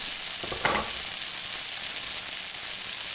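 Tomatoes dropped into a hot frying pan with chicken, a continuous loud sizzle with a brief burst of crackling as they hit the oil.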